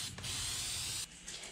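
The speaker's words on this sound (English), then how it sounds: "he's going to have to spray the contact stuff on it. It's spraying" A close, sharp hiss of an old aerosol can spraying contact adhesive for about a second, followed by two short bursts.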